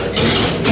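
A sheet pan loaded with brats and sweet and white potatoes slides into an oven, giving a short metallic clatter and scrape of the pan against the rack, close and loud, with no one talking.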